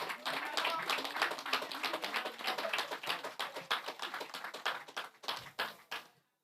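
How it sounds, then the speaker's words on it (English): A small crowd at an outdoor land regularization handover ceremony in New Amsterdam claps for a team, steady moderate applause with distinct individual claps that thins out and stops near the end. "Give them a round of applause."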